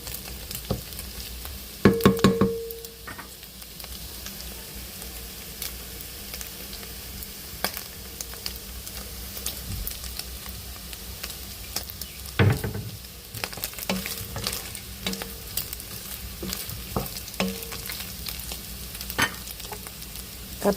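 Pork sizzles in a frying pan with salt and curry, a steady crackling hiss broken by a few louder stirring clatters and scrapes, with no voices.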